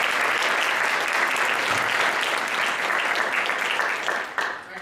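Sustained, dense applause from a lecture audience welcoming President Haas at a distinguished lectureship, loud and even throughout, then starting to thin out at the very end.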